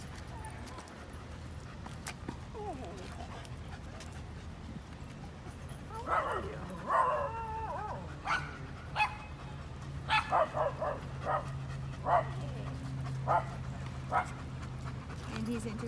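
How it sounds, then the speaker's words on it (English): A dog barks repeatedly in short bursts, close by, with a person speaking briefly and steady background noise. "he's interested in the dog over here barking"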